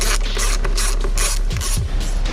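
Ratchet with a 5.5 mm socket clicking rapidly in short bursts as it loosens intake screws on a Honda Civic Type R, close and crisp, with no voices.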